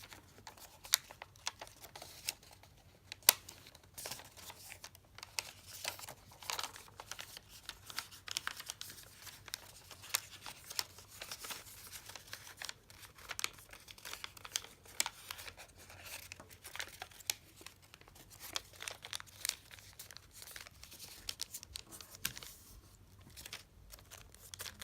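Sheet of origami paper being creased into a triangle fold: steady soft crinkles, rustles and sharp little creasing snaps close up, continuing irregularly throughout with no talk.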